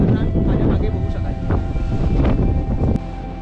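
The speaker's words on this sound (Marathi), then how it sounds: "या टप्प्यात वारा खूप भयंकर असतो" Strong wind gusts buffet the microphone on an exposed Sahyadri mountain ridge on the Nakhind trek, a loud continuous roar with surging gusts.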